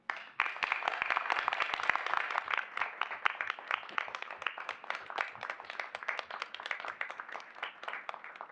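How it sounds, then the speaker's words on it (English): A roomful of people at a school board meeting applauds the year's top ten teachers, with dense, steady clapping that stays even for several seconds and thins slightly near the end. "please join me in giving all of our top 10 teachers for the 2018-19 school year a round of applause"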